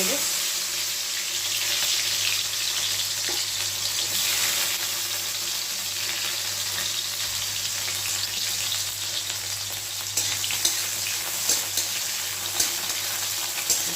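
Bitter gourd fries in hot oil, producing a continuous even sizzle and hiss that carries steadily throughout, with a handful of small clicks near the end and nobody speaking.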